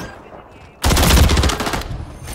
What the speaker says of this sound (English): Somebody's shooting over here.